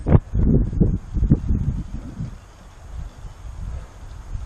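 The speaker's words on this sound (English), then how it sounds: "I don't expect much of a video quality with this wind whipping around." Gusty wind whips around outdoors on a cloudy day, buffeting the microphone with deep rumbling bursts that are strongest at the start and then settle into a softer, steady roar.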